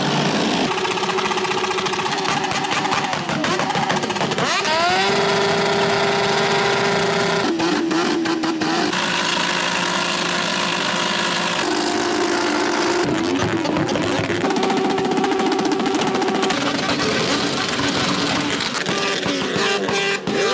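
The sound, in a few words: motorcycle engines at 24h du Mans motorcycle race campsite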